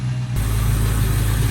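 A 2003 Ford Mustang GT V8 with fresh MSD ignition coils idling steadily and smoothly, a close, continuous low rumble after a brief quieter start, with no other sounds.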